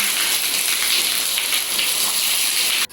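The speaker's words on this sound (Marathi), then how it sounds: "मस्त पाऊस यायला लागलाय" Steady, dense hiss of monsoon rain falling during a Raksha Bandhan family meal, continuous and fairly loud throughout, cutting off abruptly at the very end; no voices.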